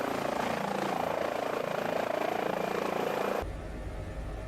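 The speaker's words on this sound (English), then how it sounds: "By the way, beautiful model of a helicopter." A High Performance Group helicopter model in Microsoft Flight Simulator produces a loud, steady rotor and engine drone. The drone continues without a break and shifts abruptly to a lower, deeper tone near the end.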